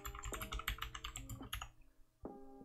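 Keys clatter in quick bursts on a computer keyboard as a source name is typed, close and fairly quiet, with a short pause before a final few keystrokes.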